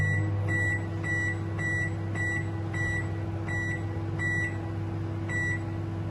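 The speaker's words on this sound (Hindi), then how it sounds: "अब इसको मैं माइक्रोवेव में रखने लगी हूँ।" A microwave oven hums steadily with a low drone while baking a chocolate cake, a short electronic beep repeating at a regular pace above it.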